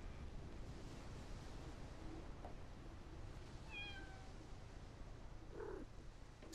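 A cat meows a few times inside a locked room in the video game Deponia, faint and brief over a steady wash of ambient noise that sounds like surf and wind.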